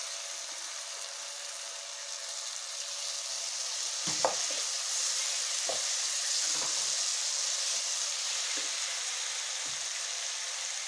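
Carrot and beetroot sauté in a pan for veg rice, a steady, close sizzle of frying with occasional soft stirring knocks, and no talking.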